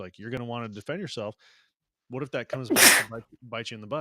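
A single sudden sneeze breaks out partway through, sharp and loud, amid a live talk-show conversation about home defence, with people speaking before and after it.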